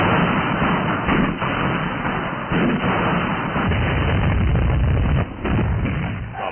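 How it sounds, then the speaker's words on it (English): Heavy French artillery facing the Siegfried Line booms in a rough, muffled old-newsreel recording, with a string of deep thuds and rumbling blasts over several seconds. "the heavy artillery of France booms its challenge"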